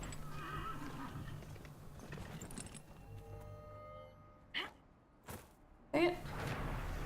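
A horse whinnies a few times in a video game over a low steady background hum, with faint hoof clops and scattered clicks.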